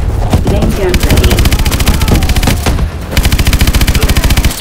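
A vehicle's main gun in Call of Duty: Advanced Warfare lets off loud, rapid automatic fire. Mixed blasts open the stretch, then there is a brief pause, and a steady, evenly paced stream of shots follows.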